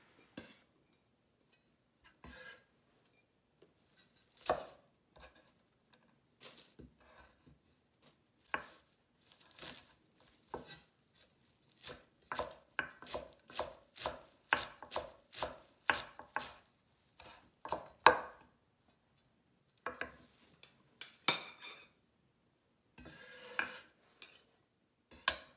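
A knife chops cilantro on a cutting board for a vegan Chinese cucumber salad, irregular bursts of quick crisp taps with pauses between, close and fairly quiet with no talking.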